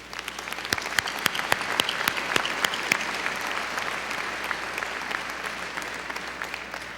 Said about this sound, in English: So graduates, I'd like you to join me in a big round of applause for your parents.